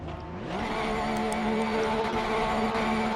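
A 2016 Porsche 911 GT3 R race car in the Assetto Corsa racing game revs up from a low idle to a sustained, steady engine drone that holds loud and close.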